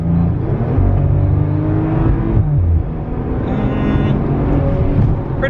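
Maserati Ghibli accelerating hard through a gap in traffic, a steady loud engine drone that rises in pitch with a brief dip around a gear change, heard from inside the car.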